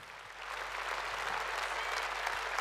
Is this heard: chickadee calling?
no